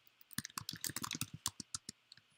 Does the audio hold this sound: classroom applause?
no